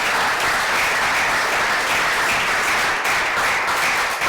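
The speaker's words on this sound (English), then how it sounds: "give yourself a round of applause" A conference audience at Mage Titans Italy 2016 breaks into steady, loud applause, a dense, continuous patter of many hands clapping throughout.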